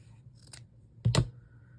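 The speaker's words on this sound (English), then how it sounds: "And so we're just going to cut off right about here." Two quick, close snips of scissors cutting paper for a craft project, sharp and clear against a faint background hum.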